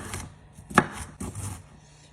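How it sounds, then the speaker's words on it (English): A knife roughly chops broccoli florets on a cutting board, a few crisp close thuds spaced unevenly with one louder strike, with no talking. "I'm just going to start roughly chopping these until they are nice and bite-sized pieces."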